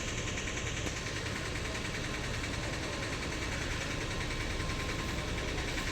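A KSRTC Pallakki sleeper coach bus idles at the Dharmasthala bus stand in early morning, a steady, loud, unbroken engine rumble and vibration with no pauses.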